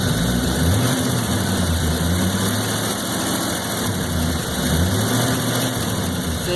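A 1993 Chevrolet Corvette with the LT1 engine sits at a rough idle, a loud, close, continuous low rumble with a slightly uneven, wavering pulse and no talking.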